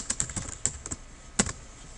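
Quick keystrokes on a computer keyboard tap out a short burst of about a dozen clicks, close and fairly quiet, with one sharper key press near the end.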